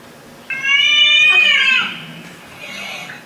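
A cat lets out one long, loud meow with a rising then falling whine, close by, followed by a softer trailing sound.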